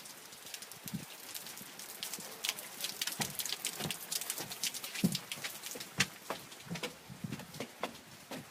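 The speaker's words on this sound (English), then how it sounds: "We got a rainy day today." Rain falls steadily in Vancouver, a soft continuous patter with scattered sharper drips close by, no voices.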